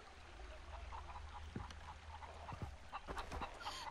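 Village chickens in Far Cry 3 cluck in a few short, scattered calls against a low ambient hum, fairly faint and with no talking.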